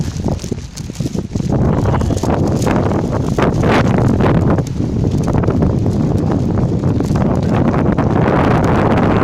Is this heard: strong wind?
yes